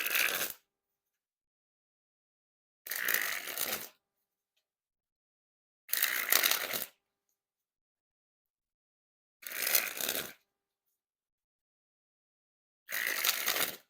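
Five separate bursts of Orbit Mac Lethal playing cards being sprung from hand to hand, each a crisp rapid fluttering riffle lasting about a second, spaced by silent gaps, close and alone.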